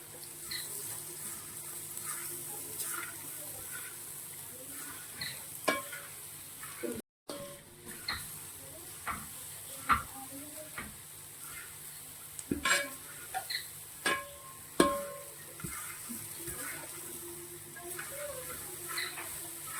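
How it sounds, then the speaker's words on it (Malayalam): A spoon scrapes and stirs a sticky jaggery, grated coconut and ghee mixture in a pan, with scattered clinks and soft sizzling at irregular intervals against a quiet kitchen background. "അതുവരെ നമ്മളിതിങ്ങനെ ഇളക്കിക്കൊണ്ടിരിക്കണം"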